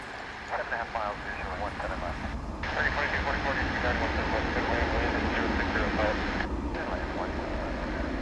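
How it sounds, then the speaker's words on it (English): A long-haul airliner rolls down the runway at DFW airport on its takeoff run for a trans-Pacific flight, a steady broadband engine roar that swells partway through and holds loud, with voices talking faintly over it. "you would expect this flight to have a very long run down the runway"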